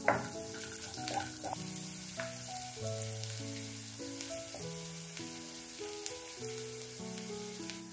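Garlic frying in a pan for a tomato cream sauce, a steady close sizzle and crackle with shifting tonal notes running throughout, no voices.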